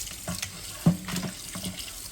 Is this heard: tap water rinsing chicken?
yes